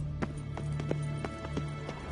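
A horse galloping in The Witcher 3, rapid rhythmic hoofbeats pounding at an even pace, close and continuous over a low rumbling bed, with no talking.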